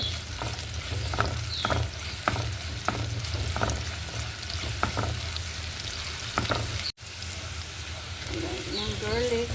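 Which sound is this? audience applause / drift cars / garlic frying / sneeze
garlic frying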